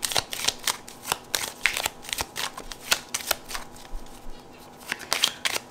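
Lenormand cards shuffled by hand close up in a quiet room, a rapid run of soft riffling flicks and slaps in an uneven rhythm.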